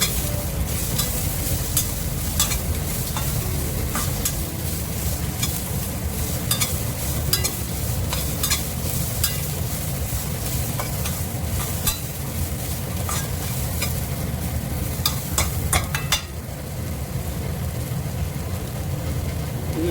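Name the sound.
frying spices and pigeon pea seeds in a pan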